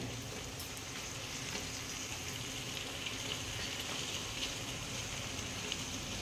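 Potatoes, pointed gourd and onion fry in a pan with a steady, dense sizzle running unbroken at an even level, close and alone with no voices.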